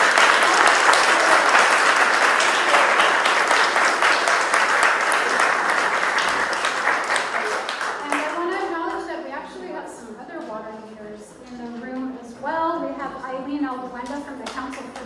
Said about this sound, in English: Well, can we get a round of applause for this?